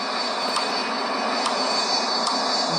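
A steady, loud airliner engine roar holds at throttle in the Real Flight Simulator game, an unbroken broadband drone with faint periodic clicks on top.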